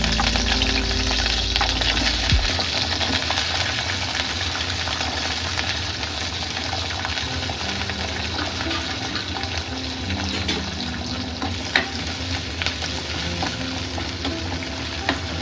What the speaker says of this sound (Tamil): ஸோ தேங்காய் எண்ணெய் சூடானதுக்கப்புறம் இதில் வந்து சின்ன வெங்காயம் போட்டுடலாம்.